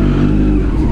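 Superbike engine revving in a narrow lane, a loud continuous low rumbling roar with steady throaty engine tone, close and filling the whole moment.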